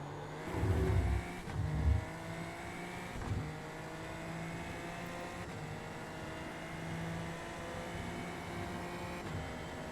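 Super Formula Lights race car in the iRacing sim braking hard and downshifting to second gear into a corner at Virginia International Raceway, with loud low engine blips early on, then a steady engine drone for the rest.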